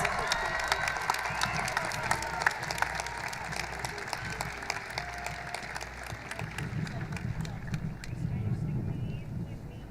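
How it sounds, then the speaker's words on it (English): Steady applause from a crowd at a high school graduation ceremony, with scattered cheering and murmuring voices underneath, continuing for the whole stretch at moderate loudness. "please give a final round of applause to the recipients of our 2018 Colachis Awards"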